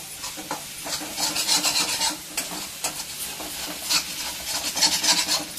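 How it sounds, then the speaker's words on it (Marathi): Chana dal masala for bhagri zunka being stirred and sautéed in oil, with a continuous close scraping and stirring rasp over a soft sizzle, in steady strokes with no talking. "बघा कसा मस्त परतून झालेला आहे मसाला"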